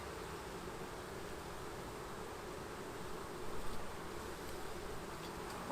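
Honeybees hum inside an open hive, a soft, continuous, dense buzzing that stays faint and even with no voices over it.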